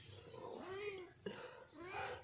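Faint, high kitten mews sound several times at close range, with a quiet voice and soft background noise underneath.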